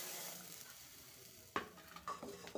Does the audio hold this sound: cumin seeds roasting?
yes